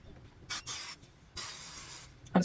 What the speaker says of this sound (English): I'll just do my body quick spray